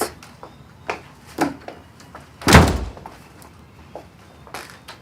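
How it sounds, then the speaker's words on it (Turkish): A door slams shut with a single loud thud midway, amid scattered softer knocks and movement sounds in an indoor scene. "Kapıyı kapat."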